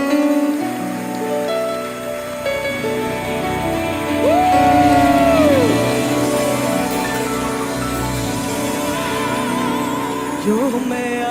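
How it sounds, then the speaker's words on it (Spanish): A church congregation at a Friday ladies' service applauds and cheers together, a dense sustained wash of clapping and voices under music, steady and loud throughout. "Denle un fuerte aplauso al Señor."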